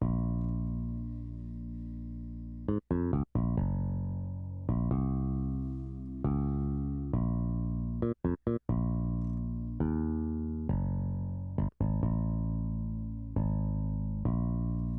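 A deep, round synthesized bass from FL Studio's Boo Bass plugin on default settings plays a steady line of plucked notes with occasional quick staccato hits, loud and alone.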